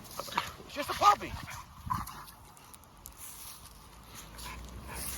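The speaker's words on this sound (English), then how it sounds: "This is a big puppy." A big bully-breed puppy, nearly a year old, gives a few short whimpering yips near the start, close by, then quiet room noise with someone talking at times.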